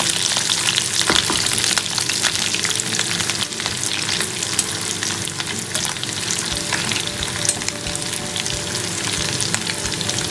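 Potatoes frying in hot oil during a prawn fry recipe, a steady dense sizzle and crackle with occasional pops, close and loud throughout with no talking.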